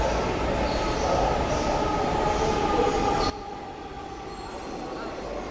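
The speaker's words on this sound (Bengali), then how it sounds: "আমাদের ট্রেন কাছাকাছি চলে এসেছে, লাইট দেখতে পাচ্ছি, স্টেশনে চলে আসবে এই 1 নম্বর প্ল্যাটফর্মে।" A metro rail train pulls into platform 1 at a station, a loud steady rumble with wheel squeal that drops abruptly partway through to a quieter hum.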